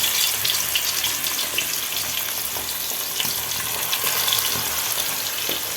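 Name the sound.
chicken and curry leaves frying in hot oil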